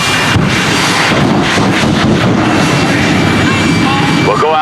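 A 10,000 horsepower jet car roars at an airshow, a loud sustained blast of engine rumble and noise filling the whole stretch, with a rising whine near the end.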